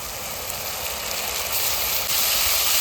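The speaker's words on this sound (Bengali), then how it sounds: "রসুন কুচি এটা এক মিনিটের মতন ভাজি নিলাম এবার যে আটটা লঙ্কা বাটি রাখছিলাম এই লঙ্কা বাটাটা দিয়ে দেবো এর মধ্যে" Chili paste made from ground chilies and chopped garlic fry in a pan, giving a loud, dense, close sizzling hiss that builds steadily with no talking.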